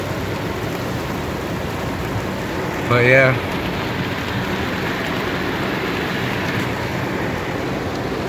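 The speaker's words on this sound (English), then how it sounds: "And it is raining like crazy." Heavy rain drums steadily on a 2008 Hyundai Elantra fitted with WeatherTech window deflectors, a dense continuous hiss heard from inside the car, with a brief spoken remark partway through.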